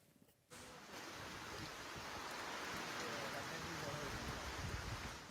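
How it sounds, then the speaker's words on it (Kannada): Heavy monsoon rain pours steadily across coastal Karnataka, a dense, continuous hiss that swells up after a brief quieter moment at the start and holds loud and unbroken throughout. "ಉತ್ತರ ಕನ್ನಡ ಜಿಲ್ಲಾದ್ಯಂತ ಮಳೆ ಇದೇ ರೀತಿ ಅಬ್ಬರಿಸ್ತಾ ಇರುವಂಥದ್ದು"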